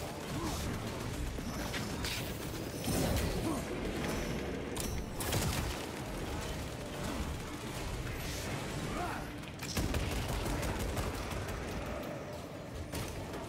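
Gunfire in Warhammer 40,000: Space Marine 2, dense bursts of shooting mixed with crashes and mechanical clatter, loud and continuous across the whole stretch with a player's voice talking over it.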